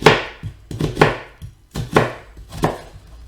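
A knife chops white onion on a board in the restaurant style: a series of crisp, close cuts, about seven strokes in an uneven rhythm, with short pauses between them and no talk.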